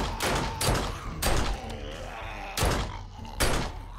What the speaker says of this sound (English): That pipe bomb came in a good time.